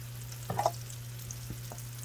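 A cauliflower steak fries in olive oil in a pan, giving a faint, steady sizzle under a low hum. A few brief spits and crackles stand out, and no one speaks.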